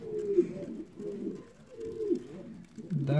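Fancy Siberian pigeons and their young chicks coo in a loft, a series of low, throaty rolling coos repeating close by at moderate volume, with no talking.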